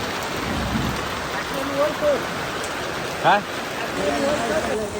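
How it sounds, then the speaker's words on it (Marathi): Heavy rain pours around a house under construction, a loud steady roar with rainwater coming indoors, while voices speak over it in short bursts. "पावसाचं पाणी बघा घरात पण येला"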